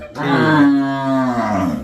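A cow or buffalo on a farm holding Jersey-Sahiwal cross cows and buffaloes gives one long, loud, close moo that lasts nearly two seconds, with no talking.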